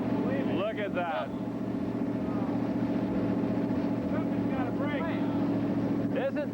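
A car engine idles steadily after its water hose has been cut, running on Prolong treatment in a 1997 demonstration. The smooth, even hum continues under people talking nearby.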